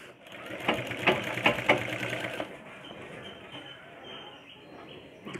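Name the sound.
sewing machine stitching a blouse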